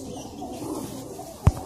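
Pigeons coo faintly in a low murmur nearby, and a single sharp thump lands near the end.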